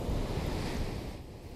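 Ocean surf rolls onto the barrier-island beach at Assateague Island National Seashore, a steady, full wash of breaking waves with wind rumble. It holds loud and continuous throughout and eases slightly toward the end, with no voices.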